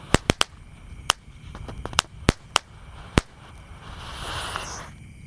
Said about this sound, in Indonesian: untuk pemanasannya kita nyalakan mercon tank terlebih dahulu guys